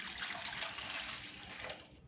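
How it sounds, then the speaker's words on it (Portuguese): A glass of water pours into a cooking pan, a steady splashing gush that is faint and continuous for a couple of seconds with no talk. "Aqui na panela eu vou colocar um copo de água."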